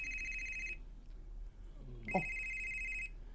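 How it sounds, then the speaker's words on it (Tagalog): A cellphone rings with a steady, bright electronic tone in two stretches, separated by a short pause, as a brief voice exclamation cuts in near the start of the second ring. "Yan ang cellphone ang nag-ring."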